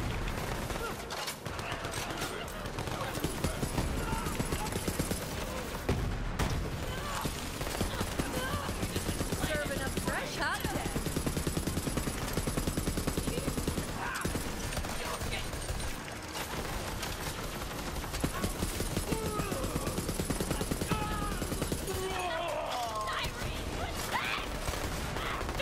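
Gunfire in Borderlands 3 rattles in repeated bursts under game sounds and a voice talking, moderately loud and fairly constant across the stretch.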